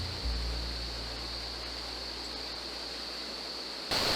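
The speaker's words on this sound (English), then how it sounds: "The air was filled with the sound of flowing water from the many small waterfalls flowing down the creek" Flowing water from many small waterfalls tumbling down a canyon creek in the Blue Mountains, Australia: a steady, broad, hissing rush that stays even throughout, with no voices, and turns slightly brighter at the very end.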